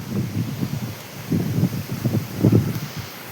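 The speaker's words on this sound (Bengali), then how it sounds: "দিচ্ছে হাওয়া দেখাচ্ছি দেখো" Wind gusting through leaves outdoors at night during a stormy evening, heard as uneven swells of low rustling and buffeting that rise and fall in repeated surges, close to the microphone.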